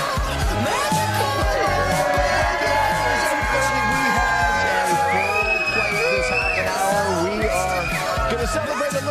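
Outdoor studio crowd on a New York plaza cheering and whooping during a post-Christmas morning TV broadcast, loud continuous mix of shouts and voices with music-like tones underneath.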